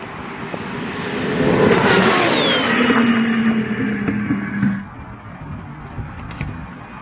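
Twin turbo Lamborghini Huracan and McLaren 720S racing past at a finish line, a loud engine roar swelling as the cars approach, sweeping by with falling pitch, then fading into the distance.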